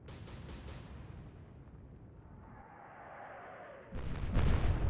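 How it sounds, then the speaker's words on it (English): Explosion aboard a warship in the Atlantic Fleet naval combat game: a rumbling, crackling blast that fades and then swells again with a louder burst of booming fire near the end, no talking. "Something else just blew up."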